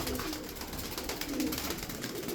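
Pigeons of a young blue smoky performance breed, game birds from one loft, cooing softly in a low repeating murmur amid a constant noisy background.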